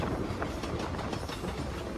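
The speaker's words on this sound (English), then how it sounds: "Here comes a southbound subway train here." A Toronto southbound subway train passes the Davisville subway yards outdoors, a steady loud rumble with rhythmic clickety-clack of wheels over rail joints throughout.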